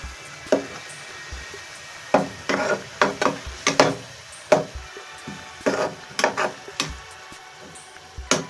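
A utensil stirs fish curry with China garlic in a pan, making a run of close, rhythmic scraping and knocking strokes with short pauses between them and no talking.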